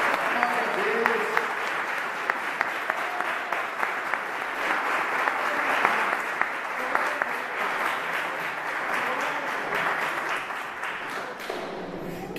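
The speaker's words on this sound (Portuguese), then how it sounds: "E eu queria que você redobrasse as palmas ao Senhor pela vida das nossas irmãs" A church congregation at a Pentecostal service claps steadily and loudly for a long stretch, with voices calling out under the applause.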